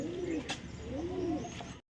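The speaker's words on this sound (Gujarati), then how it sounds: "કુકડો જ કબૂતર કેવો બેઠો હોય, બધો અલગ અલગ જાતનો કબૂતર, કલર વાળો છે।" Pigeons of assorted colored breeds in a bird house coo in two soft, low, rolling phrases, close and clear, with no talk over them.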